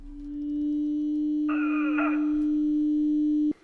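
Pure, steady 300 Hz sine tone held for several seconds, with brief chirping sounds briefly layered over it midway, then cutting off abruptly.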